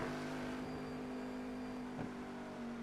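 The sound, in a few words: Cadillac CTS-V race car downshifting and braking, iRacing video game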